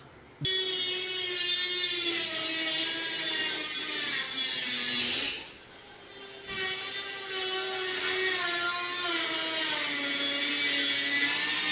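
A high-pitched power tool whines as it cuts metal on a 1966 Ford F250 cab, a loud sustained tonal screech that dips briefly midway and then resumes, close and with no talk.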